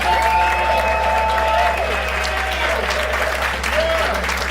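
A crowd at a live pageant finale applauds a contestant, steady clapping and murmur filling the room while sustained tones of background music run underneath.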